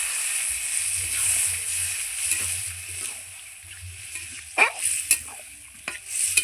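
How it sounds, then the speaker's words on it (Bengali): Spiced water going into a pan of frying duck egg and capsicum, a soft steady sizzle and hiss with a few sharper bursts and stirring scrapes near the end, close by. "এখন আমি মশলা দেওয়া জলটা দিয়ে দিচ্ছি"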